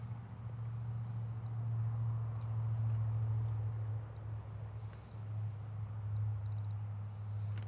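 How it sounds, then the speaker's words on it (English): Three steady electronic continuity beeps from a multimeter, the first two long and the last one short, over a constant low engine-like hum, while testing a Subaru Outback for parasitic battery drain. "you'll hear the beep and see triple zeros on the display"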